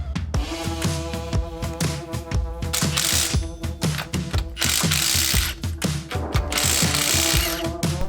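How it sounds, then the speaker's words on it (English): A ratchet clicks rapidly and rhythmically while unbolting the strut bolts on a Subaru during a 2-inch lift kit install, giving close, crisp, repeated bursts of pawl ticking. "We're gonna start by unbolting and remove the two main bolts on the struts."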